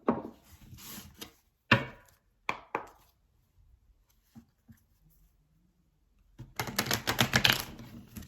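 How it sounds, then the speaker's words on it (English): A Crystal Visions tarot deck is shuffled close up, with sharp papery riffles and slaps coming in short bursts separated by near silence, then a longer, denser flurry of card noise at the end. "That was a really bad shuffle."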